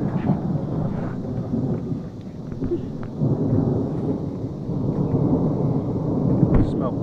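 Thunder from lightning during a storm rumbles as a deep, sustained roll with rain noise beneath it, loud and continuous throughout.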